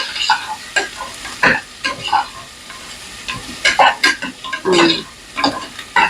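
Ingredients for millet biryani are sautéed in a pan, a soft background sizzle broken by repeated scraping and clattering stirs of a spoon against the metal, close and irregular.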